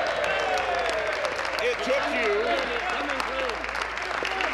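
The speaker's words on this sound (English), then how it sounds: "I think we should give him a round of applause." Applause fills a provincial legislature chamber, a dense patter of clapping with voices calling out over it throughout.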